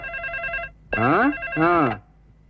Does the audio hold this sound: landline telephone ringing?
yes